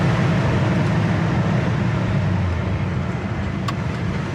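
A 1960 Ford Starliner with a manual transmission rumbles steadily from inside the cabin as it is downshifted, a dense, loud engine and road drone with a slight shift in pitch partway through.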